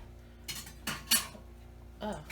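A small metal spatula scrapes and clinks against the pan while prying cheesecake brownies loose, several sharp, close taps and scrapes spaced irregularly over a quiet room background.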